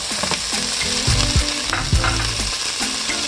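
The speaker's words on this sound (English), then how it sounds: "Now we're gonna check on the vegetables and add the ham in it" Ham dropped into a hot pan of vegetables sizzles loudly and steadily, with clattering stirring and scraping knocks from a utensil close by and no talking.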